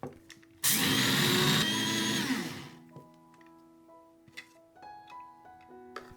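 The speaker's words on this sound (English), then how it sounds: "Blend them." A blender whirs loudly for about two seconds, blending toasted ingredients, then winds down, followed by faint clinks and light handling sounds.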